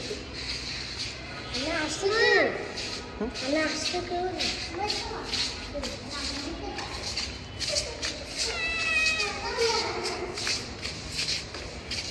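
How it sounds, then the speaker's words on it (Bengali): A hungry cat from a university hall meows indoors, two or three rising, wavering cries standing out near and loud, amid shuffling noises and people talking. "রাফিয়া, বিড়ালটার তো ক্ষুধা লাগছে, যেমন ওকে তো এখন খাবার খাওয়াইতে হবে।"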